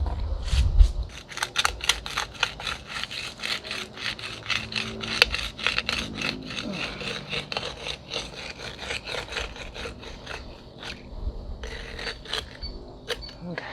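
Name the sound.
poking a drainage hole through bottom of pot mold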